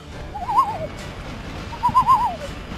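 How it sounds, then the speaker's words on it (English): A bird call from the video game Majora's Mask plays twice, a warbling, hooting owl-like cry heard clearly over soft background noise with a pause between the two calls. "which is the Majora's Mask bird"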